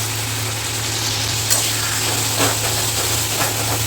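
Soaked ground spices going into hot masala frying in a pan for Bengali chicken keema, giving a steady close sizzle and hiss with a few soft stirring bumps.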